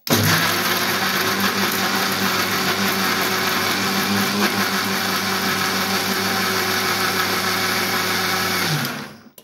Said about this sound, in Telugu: మిక్సీ పట్టుకోవాలి ఫ్రెండ్స్